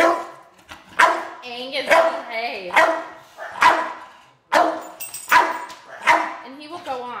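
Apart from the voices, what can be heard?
dog barking in a crate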